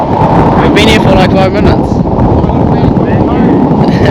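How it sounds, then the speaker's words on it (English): Strong wind buffeting the microphone on an exposed fishing spot, a constant loud rumble under a man's speech. "it's so windy, but we're out here and we're doing it"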